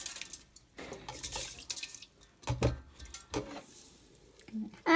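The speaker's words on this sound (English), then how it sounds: "drain the water." Water drains from a pot of washed rice in a home kitchen, a few short splashes and trickles with drips, fairly close, broken by brief pauses.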